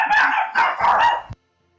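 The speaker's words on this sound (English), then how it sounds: "which seems to coincide with the dog barking" A dog barks loudly and close by, three sharp, harsh barks in quick succession that cut off abruptly into silence.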